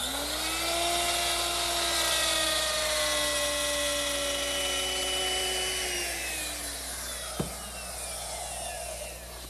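A woodworking router with a straight cutter bit and bearing follows a template to cut out a shape, giving a loud, steady high whine that shifts pitch under load, then a sharp knock as the cut ends, with no voices.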